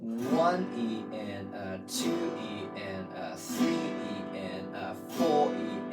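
A guitar is strummed in an even pattern, with the strings struck on every beat and chords ringing between strokes, while a voice counts the beats aloud over it.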